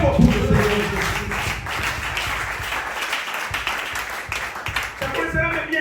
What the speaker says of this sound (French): applaudissez très fort pour le Seigneur Jésus-Christ